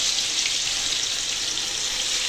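Red lentil fritters (piyaju) frying in hot oil over a low flame, a steady, even sizzle and crackle that runs loud and close throughout, with no speech.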